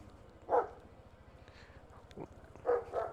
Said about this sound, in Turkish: Havlama kardeşim.